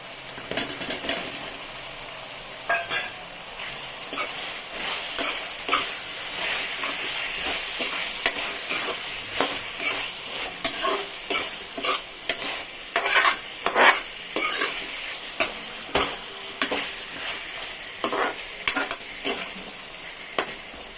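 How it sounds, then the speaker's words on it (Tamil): Drumsticks (moringa pods) are stirred into a sizzling tomato gravy in a pan. A spoon scrapes in a quick, repeated rhythm over a constant frying hiss, close and clear, with no talking. "இப்போ முருங்கைக்காய் சேர்த்துக்கணும்."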